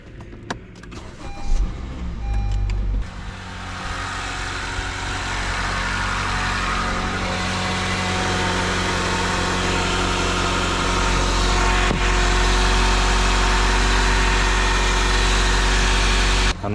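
A 10th generation Honda Civic engine cranks and catches after a few clicks, then settles into a steady, low, even idle that stays close and constant for the rest of the clip.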